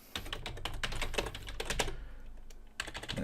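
Rapid bursts of keystrokes on a computer keyboard, close and clear, with short pauses between runs of typing.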